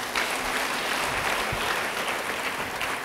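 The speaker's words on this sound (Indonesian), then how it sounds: "Beri tepuk tangan bagi dia." Applause from a church congregation fills the whole stretch as a steady, dense wash of clapping, with a few louder claps standing out.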